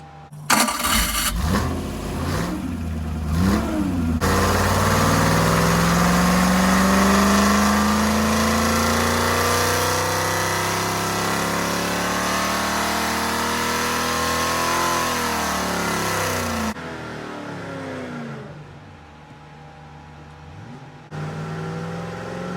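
A rebuilt Superflow dyno runs an engine at full power: a few short revs, then a sustained loud roar that sweeps up in pitch and holds before cutting off, followed by lower idling noise, with no talk.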